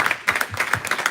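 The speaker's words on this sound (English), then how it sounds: "Please, a round of applause for a jack of all trades" An audience at a book launch bursts into applause, a brief, dense patter of many hands clapping close by, with no talk over it.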